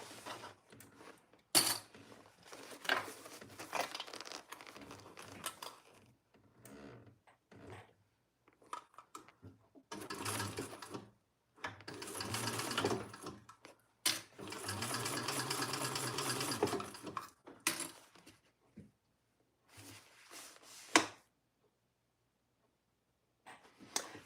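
A sewing machine stitches fabric in bursts of steady whirring, some short and some running several seconds, with pauses and small handling clicks in between.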